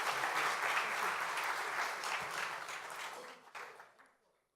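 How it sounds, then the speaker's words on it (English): Audience applause at a conference session of development bank chief executives, a steady dense clapping from a hall crowd that fades out toward the end. "Would you please give an applause?"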